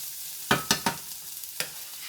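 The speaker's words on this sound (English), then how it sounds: "Let them saute a little bit before I come and put my ground corned beef in." Chopped onions dumped into a pan for corned beef and grits, giving a few sharp scraping stirs and soft sizzling bursts at close range over a quiet background.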